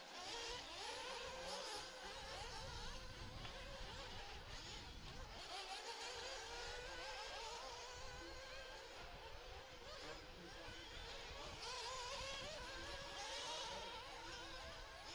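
1:8 scale 40+ nitro RC buggies racing on a dirt track in an A Main, with high-pitched engines whining and revving continuously, rising and falling as they pass, under a steady wash of background noise.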